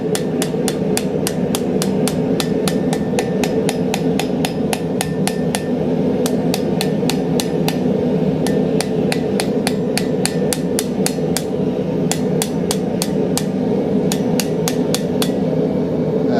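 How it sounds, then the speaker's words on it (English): A small ball peen hammer striking the edges of a hole in a nail header forged from a railroad spike, a long run of sharp, evenly paced metallic taps, loud and close, with short pauses between bursts. "We'll do that just by using a small ball peen hammer"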